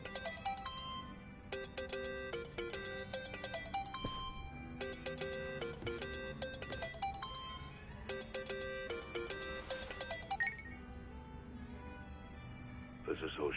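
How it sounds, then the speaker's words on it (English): A phone rings in the video game Yakuza: Like a Dragon, repeating a melodic ringtone in several bursts over game music, with no talking. "Think that's your phone, man."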